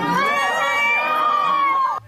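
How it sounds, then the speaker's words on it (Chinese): Crowd of fans at an airport arrival hall screams excitedly for a visiting NBA star, a sustained high-pitched wall of shrieks that cuts off abruptly. "兴奋尖叫，拿起手机狂拍"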